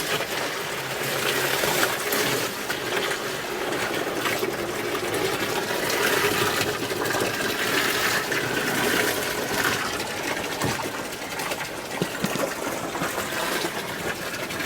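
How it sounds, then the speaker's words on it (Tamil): Well water gushing steadily from a pipe into a moina culture tank, a continuous splashing rush that holds at an even level throughout. "இப்போ நம்ம வந்து ஒவ்வொரு டேங்க்லேயுமே வந்து தண்ணி வந்து நிறைக்கிறோம்."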